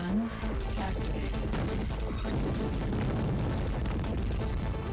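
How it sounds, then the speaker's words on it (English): Missiles and a plasma gun firing in a shooter video game, a dense, continuous barrage of booms and bursts layered over game music with no pauses. "Missiles activated. Plasma gun activated."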